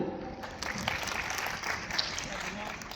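An audience claps together at a cultural program in a performance hall, a steady wash of applause lasting a few seconds with no clear pauses.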